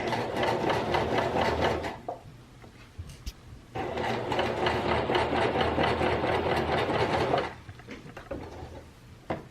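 A home sewing machine stitching a fabric face mask, running in two sustained bursts of rapid mechanical whirring separated by a short pause with small clicks and handling noises.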